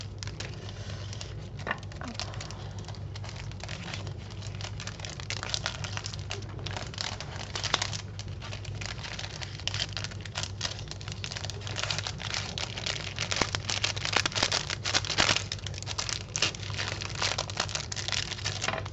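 Quiet, continuous crinkling and rustling of plastic sticker sheets being handled, with scattered small clicks and crackles over a steady low hum.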